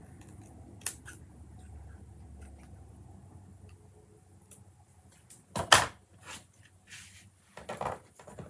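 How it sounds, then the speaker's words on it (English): Scissors trim a sheet of reused white paper for a papercraft layout, giving a few quiet crisp snips, with one louder sharp cut near the end, set against a faint room background. "I'm going to trim this and give it a nice little flag."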